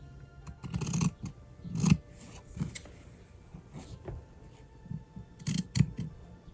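Scissors snip through fabric for a simple wallet, several separate crisp cuts in irregular bursts, close and fairly quiet with pauses between them.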